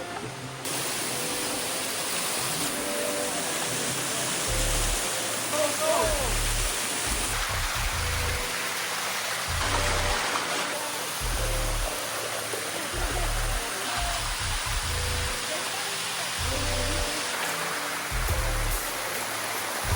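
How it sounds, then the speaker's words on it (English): Water pours down the Sticky Waterfall, a limestone cascade in Thailand, as a steady rushing roar throughout, with low thumping bursts of wind or handling noise breaking in repeatedly. "now here for the sticky waterfall"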